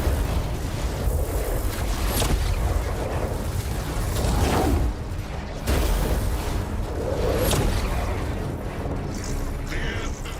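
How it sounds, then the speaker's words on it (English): In a Warhammer Space Marine 2 game cutscene, an explosion kills the scholar, heard as a loud, sustained rumbling roar with repeated booming surges and crackling bursts that lasts the whole stretch. "The scholar dies in the explosion that follows."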